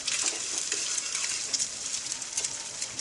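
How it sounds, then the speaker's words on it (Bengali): Eggs stirred into noodles cooking in a hot pan give a steady high sizzle, with soft scraping strokes of the stirring utensil running through it throughout. "ডিমটা দেওয়ার পর নাড়তে থাকুন"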